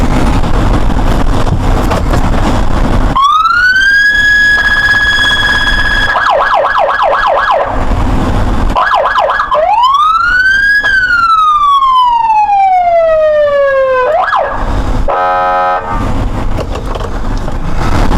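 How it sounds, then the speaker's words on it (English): Loud electronic siren of a Tahoe PPV police vehicle with a Federal Signal package, cycling through distinct tones: a steady wail, rapid yelping warbles, a long rising and falling sweep, then a quick pulsing pattern. "And then you have the 3 siren tones."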